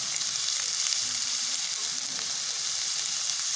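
Chopped onion, capsicum and green chilli sizzle steadily in hot tempering oil for a rice paratha mix, a close, continuous frying hiss with faint crackles and no talk.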